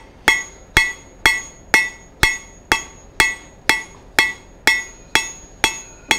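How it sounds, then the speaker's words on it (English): A hammer strikes steel while forging a hot-cut chisel, a steady series of about a dozen loud, ringing metallic blows at an even rhythm, each decaying quickly, with no talking. "then we'll clean things up and be about done with most of the forging work"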